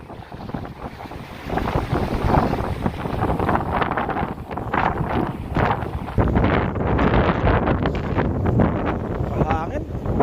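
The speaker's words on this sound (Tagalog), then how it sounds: "Hangin." Strong wind buffets a fishing boat at sea in heavy waves, a loud rough roar with gusty microphone rumble and splashing water, and voices call out now and then over it.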